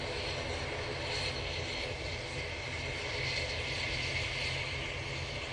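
ATR turboprop airliner departing Manchester Airport for Dublin, its propeller engines giving a strong, sustained droning roar at constant loudness, with no talking.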